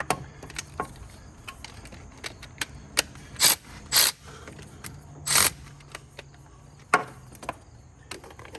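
Ratchet wrench with a 10 mm socket working a bolt during timing chain service on a VW 2.0T engine, heard as a few short, sharp clicking bursts spaced irregularly against a quiet workshop background, close and with no talk.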